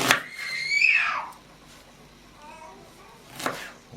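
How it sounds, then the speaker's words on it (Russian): Children shout impatiently in a home kitchen, waiting for fresh pumpkin samsa: a high, drawn-out rising and falling cry, then a shorter shout a few seconds later. "Дети с нетерпением кричат,"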